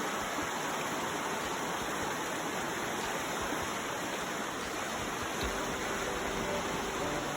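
Waterfall on the Mersey River, one of at least eight falls, gives a steady broadband rush of falling water that holds evenly for the whole stretch, close and continuous with no voices.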